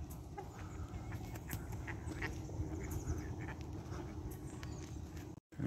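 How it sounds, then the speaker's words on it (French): Mallard ducks quacking at a zoo in a busy, continuous chorus, with a broad outdoor wash of noise underneath and many overlapping calls at moderate distance. "Des canards colverts."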